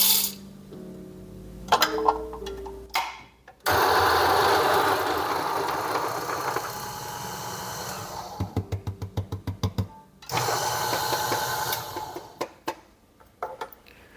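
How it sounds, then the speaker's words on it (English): A coffee grinder runs through a 12-gram dose of beans, a loud whirring burst broken by pauses and a quick series of sharp taps on the spout, then another grinding stretch, close up and without talk. "And all right, let's just grind this one."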